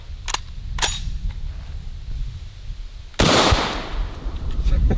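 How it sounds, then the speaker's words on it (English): An SKS rifle firing a 7.62x39 hollow point round into a clay block outdoors: one loud, close, sharp shot with a brief echoing tail, preceded by a couple of faint clicks and steady background noise. "So let's hit it with the SKS and see how much damage we can do."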